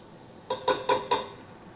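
Tomato paste dropped into a hot pan, four quick scraping, sizzling strokes in a row as it is stirred and spread, close and fairly loud over a quiet background.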